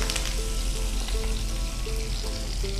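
A tempering of dried red chillies and cashews fries in a pan, sending up a dense, continuous sizzle at close range with light stirring sounds and no speech.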